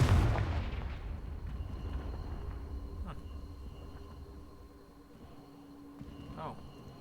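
A Confringo blasting-spell explosion in the video game Hogwarts Legacy booms loud at the start and rumbles away over several seconds, leaving a low background of game ambience with a faint later thump.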